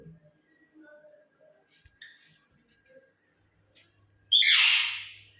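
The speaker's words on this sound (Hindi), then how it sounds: "ये मैना भी बहुत तेज है भाई, मैना भी बहुत तेज है हमारी" A myna bird gives one sudden, loud, harsh squawk near the end, after a stretch of faint scattered background sounds.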